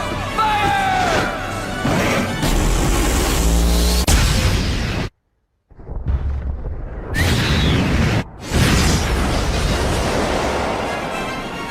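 An antimatter particle cannon fires in The Wonderful 101 video game, a loud, sustained roaring blast with booming explosions and rumbling bursts, briefly cutting out before surging again, with voices mixed in.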